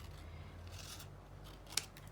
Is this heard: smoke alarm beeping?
no